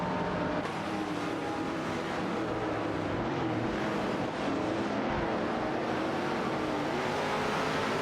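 Race cars in an AI racing video game, a continuous engine drone with shifting pitch from several cars running together, steady and moderately loud throughout.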